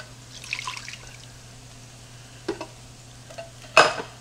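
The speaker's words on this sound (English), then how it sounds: "just gonna take my can of water here and just kind of pour it between the cans" Water poured from a can into a pot of chili gives a faint trickle, a couple of soft splashes and a final clattering clank of metal, close with no talking.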